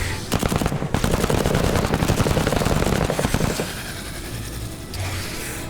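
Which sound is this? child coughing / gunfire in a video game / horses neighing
gunfire in a video game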